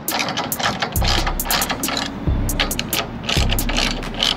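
Bolts on a van roof ladder clamp being tightened with a ratchet, giving steady rapid clicking in several runs, each starting with a low thump, close and fairly clear.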